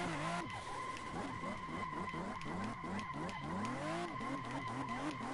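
Car sliding sideways in a drifting simulator game, tires screeching continuously over a revving, pulsing engine that rises and dips in quick waves, loud and close throughout.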